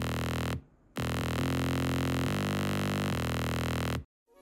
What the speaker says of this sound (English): Square shapes are cool, they sound like this.